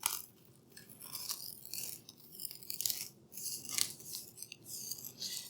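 A knife slices through a tray of snickerdoodle blondies, cutting them into bars, with soft, quiet crunching and scraping strokes that come in uneven bursts close by.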